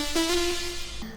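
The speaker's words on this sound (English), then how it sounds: "you want a slightly detuned synth" A slightly detuned synthesizer holds a bright, sustained lead tone that shifts pitch once, thick and shimmering, playing alone at steady volume.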